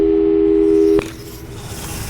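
A steady electronic phone tone from the game Portal 2 holds for about one second, then cuts off abruptly, leaving a faint hum of room noise behind.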